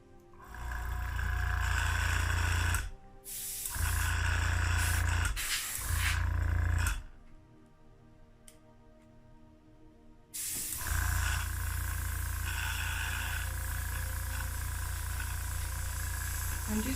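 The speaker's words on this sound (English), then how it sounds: "first thing I'm going to do is blow this around a little bit just to mix those two colors together. Use my airbrush." An airbrush sprays paint in bursts to blend two green colors, with three short hissing blasts followed by a longer continuous spray and brief quiet gaps between them.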